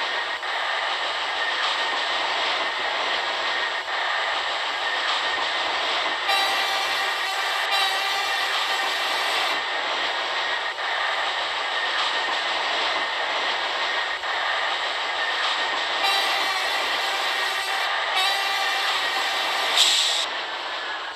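A Roblox MTA R32 subway train on the A line runs steadily along the rails in a game setting, a continuous rumbling drone with brief brighter hiss bursts partway through and near the end, with no talk.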